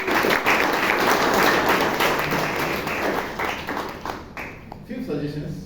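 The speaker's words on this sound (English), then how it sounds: "Give Dhanya a big round of applause." Audience applause at a Toastmasters club meeting in Bangalore, a dense sustained round of clapping that stays loud for several seconds and then thins out and tapers near the end.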